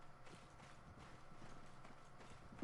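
A slow horse's hooves clip-clop in a steady rhythm across the medieval battlefield of Mount and Blade, faint and even throughout with no talk.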